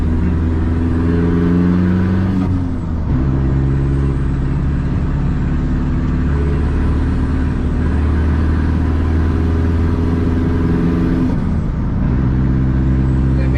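A turbocharged race car being driven, engine droning loudly and close from inside, rising through revs then dropping at gear changes twice, with a continuous heavy tone throughout.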